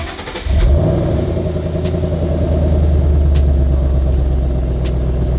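A Ford Mustang GT engine with stock exhaust rumbles loudly at close range, settling into a deep, steady idle with a throaty exhaust tone.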